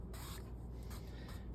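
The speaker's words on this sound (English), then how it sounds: "you can always go back and give it a couple extra sprays with just a little spray bottle" A small spray bottle mists an acrylic painting on canvas with three quick, soft hissing spritzes spaced evenly, close and quiet, without talk.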